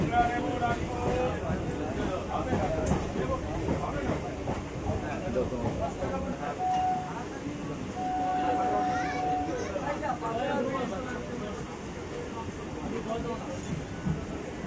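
Steady low rumble and rattling of a moving train carriage, with a faint drawn-out horn tone partway through and some background chatter.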